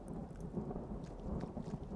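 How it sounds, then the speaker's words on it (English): Modded rain and thunderstorm in a video game, with the Vivin Raindrops mod for the rain and Storm Lightning for the thunder. Steady pattering rain under a low, continuous rumble runs throughout, with nobody speaking. "The rain is from a mod called Vivin. Vivin Raindrops for EMB, which I think they nailed the raindrops."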